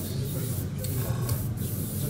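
Airbrush with a hooked-up compressor spraying paint onto a plastic scale model, a steady close hiss with a low motor hum underneath, continuous throughout with faint pulsing.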